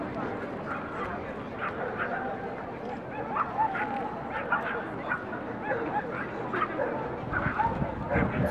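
Several dogs, including black ones, bark, yip and whimper steadily throughout a busy outdoor dog show, with a crowd murmuring and a person talking over the noise.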